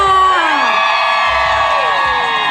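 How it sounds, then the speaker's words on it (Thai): Fans at a meet-and-greet with Thai actors scream and cheer loudly: high, sustained shrieks from many voices that overlap and waver throughout, with any clapping buried beneath them. "ขอเสียงปรบมือและเสียงกรี๊ดดังๆให้กับคุณแจ๊บและคุณฟิล์มอีกครั้งด้วยค่ะ"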